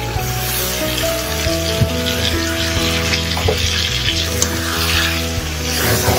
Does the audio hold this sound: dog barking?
no